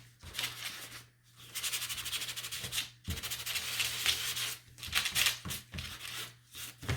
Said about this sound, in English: just give these a light sand